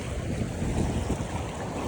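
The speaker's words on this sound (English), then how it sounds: "Super windy today." Strong wind buffets the microphone on a beach in Jacksonville, Florida, a steady loud roar with surf rushing underneath and no speech.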